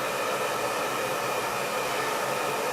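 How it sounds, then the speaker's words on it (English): A hair dryer blows continuously at close range, a loud steady rushing roar directed at the roots of the hair, with no voices over it. "Getting that dryer really on those roots"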